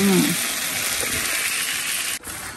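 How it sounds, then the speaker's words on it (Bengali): Fish frying in a pan gives a steady, close, bright sizzle that runs almost unbroken, dipping briefly near the end; a voice sounds faintly at the very start. "আর এদিকে আম্মু আমাদের জন্য মাছ বোনা করতেছে"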